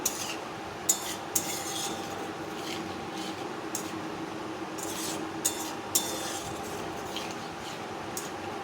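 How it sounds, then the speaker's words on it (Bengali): Spice masala is stirred and fried in a pan for rohu fish curry, a low steady sizzle under sharp metal clinks and scrapes of a spoon against the pan at irregular intervals, close and fairly quiet. "একদম ভালোভাবে নাড়তে থাকবো মশলা ভালোভাবে কষাতে থাকবো"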